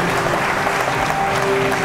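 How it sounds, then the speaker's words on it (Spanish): Audience applause at a gastronomy awards ceremony in Marbella, a dense, steady clapping that fills the whole stretch at fairly loud level with no voices over it. "Un aplauso para él. Un aplauso."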